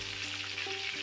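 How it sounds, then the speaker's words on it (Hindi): A pan of murg musallam, whole spiced chicken, fries over a low flame, giving a steady soft sizzle with faint bubbling throughout this brief moment, with no voices. "आग हम हल्की ही रखेंगे, आग हम ज्यादा तेज नहीं करेंगे, हम हल्की आग पे ही इसे फ्राई करेंगे"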